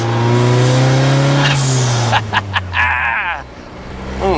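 A DeLorean with an EcoBoost engine roars steadily while driving, then sputters and pops as the revs drop before building again, loud and close.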